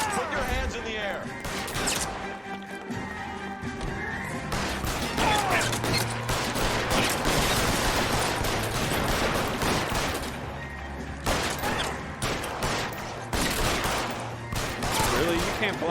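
A video game gunfight with dense, continuous gunfire: rapid loud shots and impacts crackling across the whole stretch, with brief lulls, while players talk over it.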